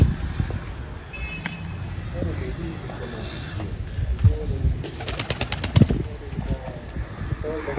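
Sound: fantail pigeons cooing

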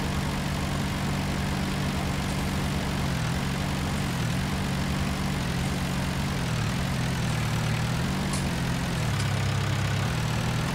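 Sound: Massey Ferguson 277G tractor engine running in field

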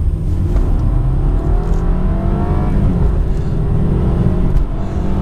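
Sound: BMW 220i car accelerating hard from 0 to 100

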